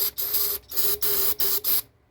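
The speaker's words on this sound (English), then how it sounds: "There's a little spray here, I'll show you how good it works." A can of cleaner spray is sprayed in six short, loud, hissing bursts with brief gaps between them, close by, ending in quiet.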